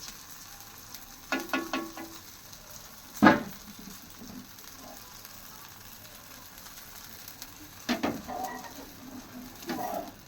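A roti fries in a little oil in a pan with a soft, low sizzle, broken by a few sharp clinks and scrapes of a utensil, close and without talk.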